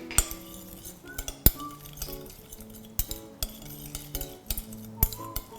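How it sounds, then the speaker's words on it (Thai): A spoon clinks and scrapes against a bowl while stirring a Thai fruit salad dressing of sugar, chopped garlic and sliced bird's eye chilies, with faint irregular taps and rattles close by. "คลุกเคล้าให้เข้ากัน ให้ตัวน้ำตาลทรายละลายนะคะ"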